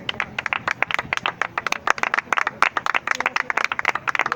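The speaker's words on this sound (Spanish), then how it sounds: "¿Cuánto un fuerte aplauso?" Congregation applauding during a church sermon, dense rapid hand claps from many people, fairly close and steady, no talking over it.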